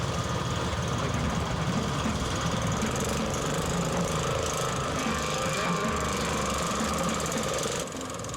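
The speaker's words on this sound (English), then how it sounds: "Engine is making contact with flywheel." The engine of a machine built from junkyard scrap runs at full throttle. It gives a loud, continuous, rattling roar with a knocking, jackhammer-like pulse that stays steady and close throughout.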